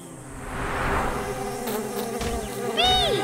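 Cartoon bees give off a swelling, buzzing drone that grows louder and nearer, with a brief cry-like tone near the end.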